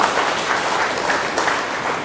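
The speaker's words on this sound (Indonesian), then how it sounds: "Tepuk tangan ya buat Billionaire Store." A seminar audience claps in a steady, dense burst of applause at a business-school selling session. The clapping runs for about two seconds at an even level, with no talk over it.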